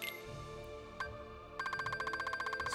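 Gummy phone menu in Kingdom Hearts III, a couple of soft chime blips followed by a fast repeating electronic ringtone trill pulsing steadily over quiet background music.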